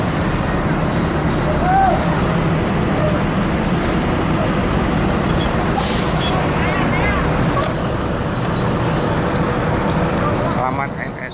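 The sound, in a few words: ANS buses arriving in convoy, air brakes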